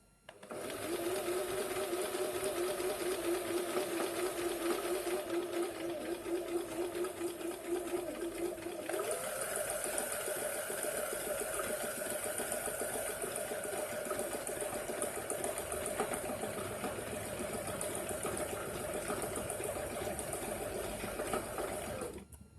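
A Butterfly JH 5832A domestic sewing machine runs steadily and close by, its motor whirring with a continuous stitching rattle that shifts to a higher, slightly different tone about halfway through, with no pauses.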